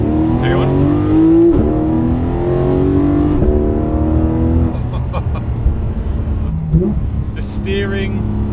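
Engine of a Porsche 911 GT3 RS revving and accelerating through gears, the pitch climbing and dropping with each shift, loud and close, while someone talks over it.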